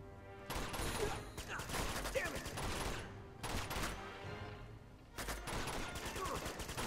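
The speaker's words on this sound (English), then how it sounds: "Oh, look, I shot those little bottles." Gunfire comes in rapid bursts in the Uncharted 2 video game as bottles are shot, with dense volleys of cracks separated by brief pauses. The shots are fairly faint in the game mix.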